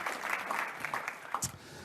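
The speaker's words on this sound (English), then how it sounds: "Let's give them a round of applause for coming and being a part of the program with us today" Applause from a room of people welcoming visiting high school students at a roundtable program, a steady patter of many hands clapping close by for a couple of seconds with a few louder claps near the end.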